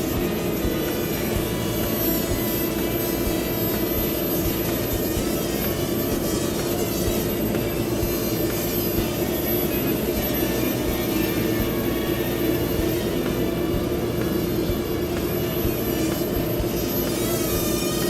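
A Hubsan X4 quadcopter drone hovers nearby in a steady, loud, high-pitched motor whine that stays constant and uninterrupted, with no talking.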